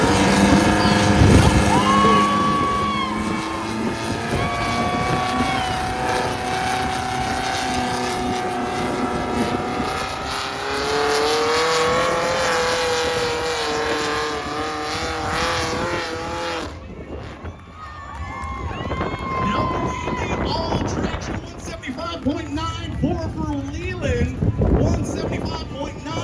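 4x4 pulling truck at a Fuji Park truck pull, its engine roaring loud and high-pitched with rising and falling revs as it pulls, crowd noise and an announcer's voice underneath.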